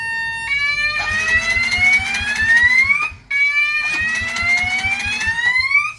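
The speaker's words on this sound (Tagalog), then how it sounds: "Mag-hazard siya at tutunog yung alarm niya." A motorcycle anti-theft alarm wails in loud, rising electronic sweeps, two long whooping cycles over a rapid pulsing buzz, with a brief break between them and no talking.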